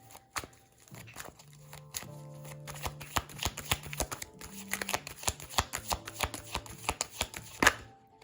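Playing cards are shuffled and drawn from a deck in a quiet room, a run of crisp riffling flicks and soft slaps alone, with a few sharper taps near the end.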